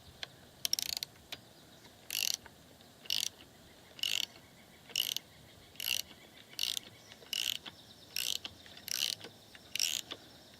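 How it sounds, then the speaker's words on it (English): A ratchet working on the strut top hat bolt of a Porsche 986 Boxster, giving short bursts of quick metallic clicking at a regular pace, about a dozen bursts, close and clear against a quiet background. "So I'm going to take the top hat bolt off"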